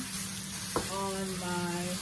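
Food sizzles in a pan on an electric two-burner stovetop, a steady close hiss with a brief clatter partway through and some faint tonal hum layered over it.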